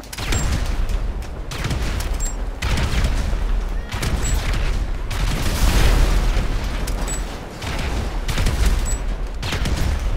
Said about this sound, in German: Woher kommen hier die ganzen Explosionen?